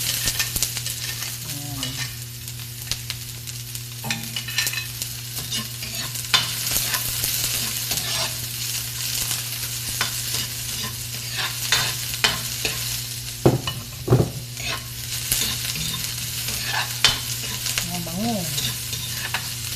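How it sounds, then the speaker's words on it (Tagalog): Garlic and white onion sauté in oil in a pan for a chicken feet soup with vegetables, a steady close sizzle broken by scraping stirs, with a few brief spoken words. "Ngayon po ay magigisa po tayo ng ating panakot."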